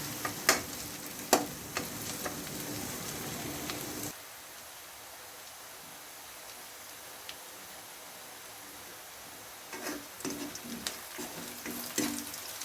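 Chopped garlic and onion frying in hot oil in a pan, a steady sizzle that runs throughout, with stirring clicks and knocks near the start and again near the end, close and moderately loud.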